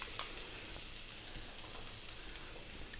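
Garlic dropped into hot oil left from frying mackerel sizzles steadily and fairly loudly, a continuous crackling hiss with a few sharper pops near the start, no voices.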